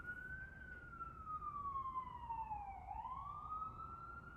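An emergency vehicle siren outside, a single wailing tone that slowly falls and then rises again, heard at a moderate distance over steady background noise.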